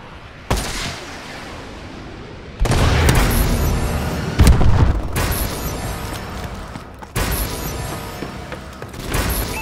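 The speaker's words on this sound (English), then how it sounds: "Friendly missile strikes inbound." Missile strike explosions in the video game Call of Duty Advanced Warfare, with several loud, sustained booming blasts and rumbling gunfire arriving in waves about every two seconds.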